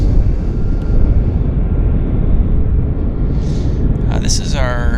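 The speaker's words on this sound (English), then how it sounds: "This is our Santa Ana taxiing. Heading for John Wayne Airport." An airliner taxis at Vancouver airport, bound for John Wayne Airport in Santa Ana, giving a loud, steady low engine roar throughout, with a voice starting just before the end.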